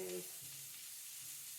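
Chicken sausage mix frying fast in a hot pan gives a steady, close, hissing sizzle throughout, with a faint voice-like hum near the start.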